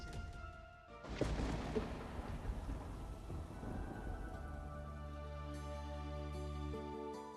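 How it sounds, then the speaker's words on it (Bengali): Heavy thunderstorm rain pours steadily while a loud, booming thunderclap breaks in near the start and rumbles away, leaving a continuous dense hiss of downpour. "বাইরে তো অনেক ঝড় বৃষ্টি হইতেছে, আবার বিদ্যুৎ চমকাইতেছে"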